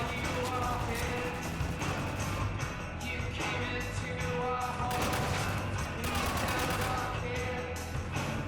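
Gunfire in the video game Spec Ops: The Line, continuous loud rapid shooting and machine-gun bursts with crashes in a dense battle, voices faintly mixed in.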